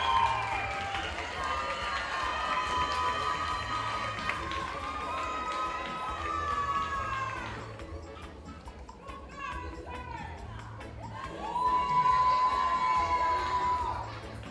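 Award-show audience in a hall cheering, shouting and clapping for dance category winners, a dense sustained crowd roar with whoops that surges again near the end, voices mixed throughout.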